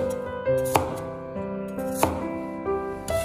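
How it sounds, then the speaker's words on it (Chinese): A kitchen knife cuts radish into chunky roll-cut pieces on a board, three or four sharp distinct chops spaced about a second apart over faint background tones. "接着将萝卜切成这样大小均匀的滚刀块"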